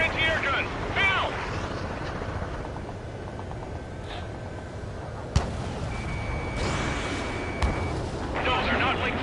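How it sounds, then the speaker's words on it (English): Anti-air gun fire in Ace Combat 7 at an air base, heard as heavy booming bursts under a steady engine rumble, with two sharp loud reports partway through and a voice speaking over the start and end. "Fire anti-air gun. Now!"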